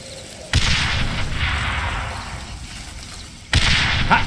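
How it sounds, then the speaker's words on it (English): Stick grenades exploding in the video game Darkest of Days: two loud, sharp blasts about three seconds apart, each followed by a rumbling, crackling tail that hangs in the air between them. "These are standard issue stick grenades. Just aim and let them fly."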